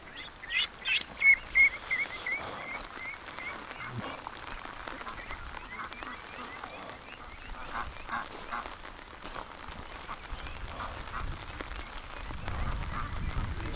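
Farm ducks honk in a farming game, a burst of loud quacking calls at the start followed by scattered fainter honks over a busy background until the end.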